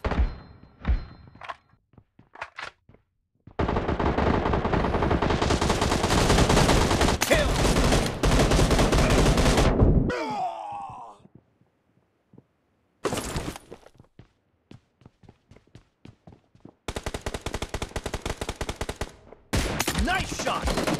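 Gunfire in BGMI (PUBG Mobile) comes in several loud bursts of rapid automatic shots, with heavy thunking impacts, separated by brief quiet gaps.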